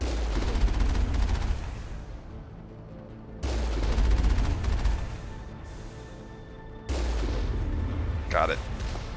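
Bursts of turret gunfire in Mass Effect, three loud rattling volleys with quieter gaps between them, and a voice speaking over the shooting.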